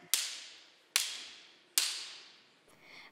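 Three sharp whip-crack strikes from a percussion instrument imitating a whip, evenly spaced about a second apart, each loud and bright with a ringing decay, heard alone on a concert hall stage.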